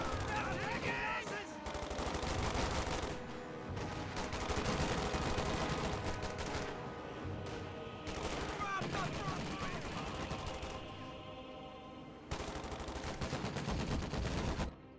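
Bursts of MG42 machine gun fire in a Company of Heroes battle, with repeated rapid rattling volleys separated by short pauses, mixed among other battlefield gunfire and effects.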